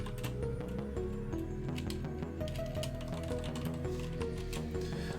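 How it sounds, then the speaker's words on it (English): Rapid clacking of keys on a loud keyboard, irregular bursts of typing with a steady low hum beneath. "Excuse my loud keyboard."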